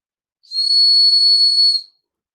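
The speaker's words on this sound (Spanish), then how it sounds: "Es el silbatito de bisel circular con canal de insuflación circular." A small whistle with a circular bevel and circular air channel is blown once, a single steady, piercing high tone lasting about a second and a half, loud and alone.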